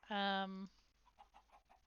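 A rooster in the farming video game Wild Country gives a loud, harmonic crow-like call lasting about half a second, followed by faint, soft clucking murmurs in the background.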